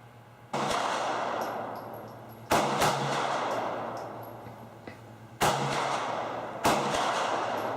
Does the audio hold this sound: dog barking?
no